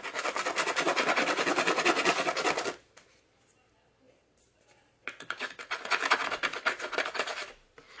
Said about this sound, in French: je vais d'abord, en fait, râper tous les bords de ma carte.